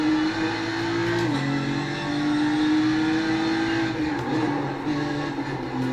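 Loud, steady engine drone of a BMW M4 GT3 in the iRacing sim on the Nordschleife, holding a high note then dipping twice as the gearbox downshifts, close and continuous with no talk.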